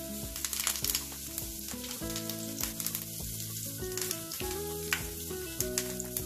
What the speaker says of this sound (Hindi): ऑयल को गरम कर लिया है, अब हम इसमें करी पत्ता डाल देंगे।